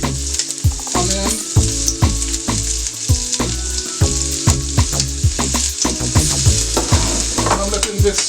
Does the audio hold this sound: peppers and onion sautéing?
yes